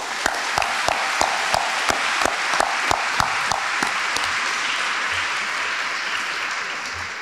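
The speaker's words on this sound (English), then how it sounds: "I would like to ask you now to thank them also with a big applause" Audience applause at the opening ceremony of the 2024 International Young Physicists' Tournament in Hungary: a dense, steady wash of many hands clapping, with a few sharper individual claps standing out near the start.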